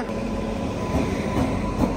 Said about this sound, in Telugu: అదిగోండి కొల్లం విశాఖపట్నం వీక్లీ ఎక్స్ప్రెస్ అయితే రేణిగుంట జంక్షన్ కి వచ్చేస్తుంది